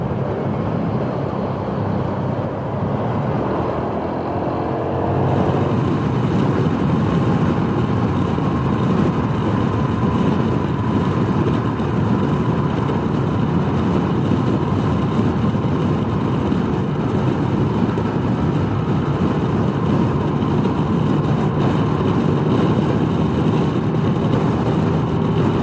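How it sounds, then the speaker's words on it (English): Honda PCX150 scooter with an aftermarket exhaust, its engine droning loud and steady at high revs against the factory rev limiter, with wind rush over a continuous hum. "Here's the factory rev limiter on the PCX. I'm bumping off of it."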